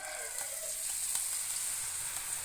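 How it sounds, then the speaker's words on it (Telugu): Potato karapusa dough fries in hot oil with a soft, continuous sizzle and crackle, steady and fairly faint, with no voices over it. "ఇదిగోండి ఆయిల్ వేడెక్కింది కదా, ఇప్పుడు మనం కారపూసను ఒత్తుకుందాం."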